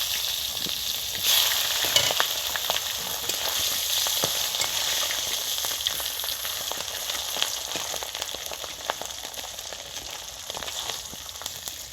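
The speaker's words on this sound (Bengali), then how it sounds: "এবার আমি সর্ষে তেল দিয়ে দিচ্ছি এবার আমি মাছটা দিয়ে দেবো মাথাটা লেজটা" Hilsa fish pieces, head and tail included, fry in hot mustard oil with a loud, steady sizzle and crackle that runs unbroken from start to finish, no voices over it.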